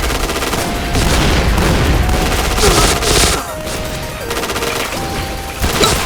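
Grenade explosions and bursts of gunfire ring out in the video game Point Blank, with loud, dense crackling fire and booms layered over game music, running continuously with short dips between volleys.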